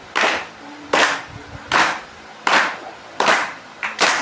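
A steady series of six sharp hand claps sounds close and loud at an even musical tempo, with brief quiet gaps between them and no talking.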